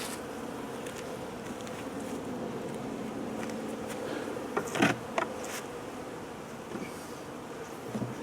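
Honeybees hum steadily around a hive feeder box in a winter apiary, a close, continuous drone with a few brief nearer buzzes passing by.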